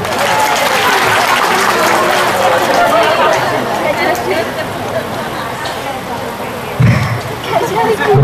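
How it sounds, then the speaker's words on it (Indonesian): A crowd at an Islamic religious lecture by a preacher in Jombang bursts into loud sustained applause, mixed with crowd chatter and some talking, with a brief thump near the end. "Tepuk tangan untuk Indonesia"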